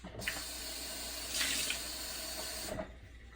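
Hot and cold water runs from a tap for about two and a half seconds, a steady close hiss that swells briefly midway before shutting off.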